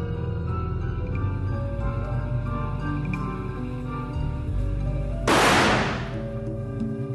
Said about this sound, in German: Der erste Schuss aus einer Entfernung von 90 cm ist sehr laut.